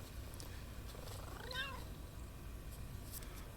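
A winged cat in Death Stranding 2 lets out a single short, faint meow in the middle of a quiet, steady ambient hum.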